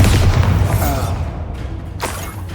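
Bombarda spell blast in Hogwarts Legacy: a heavy booming explosion with a rumbling low tail that fades out, followed by a softer burst of impact noise.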